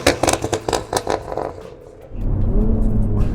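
A 530 wheel-horsepower Toyota Supra MK5 sits behind a burst of rapid clattering rattles, then its engine swells into a loud, sustained rev that holds steady to the end.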